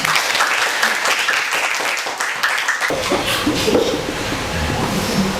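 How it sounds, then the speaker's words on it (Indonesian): A classroom of students applauds a student group after their presentation, sustained dense clapping filling the room at steady loudness throughout, with a brief shift in tone midway as the crowd keeps clapping. "Berikan aplaus untuk kelompok 1."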